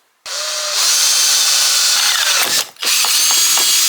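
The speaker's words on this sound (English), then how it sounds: "I'm going to drill a hole right there in the middle" A power drill whirs loudly and steadily, drilling a hole in the middle of a Harley-Davidson Dyna part for a T-bar install, briefly stops around the middle, then spins up again with a few small clicks, close by.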